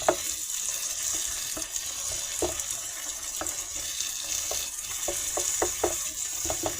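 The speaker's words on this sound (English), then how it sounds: "So we're sauteing this until everything comes together." Chickpea curry ingredients sautéing in a pan, a constant close sizzle broken by irregular utensil scrapes and taps as the mixture is stirred.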